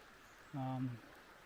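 A stream runs near a bush hammock camping spot with swimming holes, a faint steady watery rush in the background, briefly overlaid by a short voiced sound.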